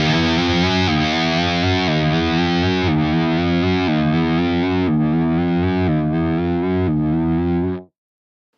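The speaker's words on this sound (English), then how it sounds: "So the arpeggiator is actually playing a run" Distorted electric guitar through an FAS AX8 pitch block arpeggiator, a low D stepped upward in a chromatic run of sustained notes changing about once a second, loud and continuous with no talk.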